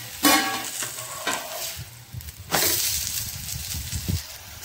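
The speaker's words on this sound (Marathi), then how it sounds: "आता ही बाजू आपण चांगली भाजून घेऊ बारीक गॅस करून." Thalipeeth flatbread roasts in oil on a low flame, a soft continuous sizzle with a few sharper crackles and scraping stirs breaking through.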